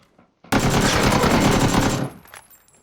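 Sustained automatic gunfire in PUBG, a rapid loud burst of shots lasting about a second and a half before cutting off, then quiet.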